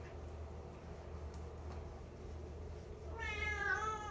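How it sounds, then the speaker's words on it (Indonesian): A cat that is afraid of water meows during a bath, a short wavering cry near the end over a low steady hum of background noise. "kalau kucing gak biasa dimandiin. Sekalinya dimandiin dia takut sama air."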